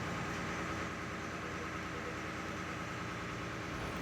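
A ferry's engine drones steadily through a ride across the water at Panjim, Goa, a loud, unbroken low rumble with vibration and no voices.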